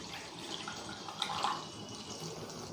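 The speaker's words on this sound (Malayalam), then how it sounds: "അതിനായിട്ട് ഒരു ബൗളിലോട്ട് ഞാൻ 1 ഗ്ലാസ് വെള്ളം ഒഴിച്ചു കൊടുക്കുവാണ്" A glass of water is poured into a bowl in a home kitchen, with a soft splashing pour swelling briefly in the middle and then settling.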